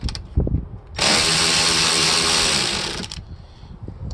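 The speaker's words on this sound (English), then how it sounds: "So go ahead and loosen up the two front bolts here" A power tool whirs loudly for about two seconds as it loosens the front bolts of a seat in a Mercedes Sprinter van. Faint clunks come before and after the burst.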